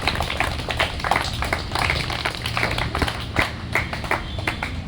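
Students in a classroom clap for themselves, a dense, sustained burst of many hands close by, steady and loud throughout with no talk over it.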